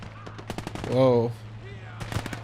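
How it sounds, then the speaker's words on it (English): Gunfire in the multiplayer war game WARNO, a quick string of sharp shots with a brief voice in the middle and a steady low hum underneath. "Something's shooting me."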